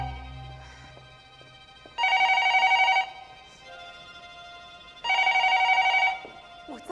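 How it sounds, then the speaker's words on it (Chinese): A telephone bell rings in two loud bursts about a second long each, separated by a pause, as a sound effect within a Yue opera stage recording; there is no talk over it. "突然电话响了起来。"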